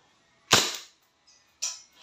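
A WE M-92 silver airsoft pistol fires a single sharp, close crack with a quick decaying tail, and a second fainter snap follows about a second later.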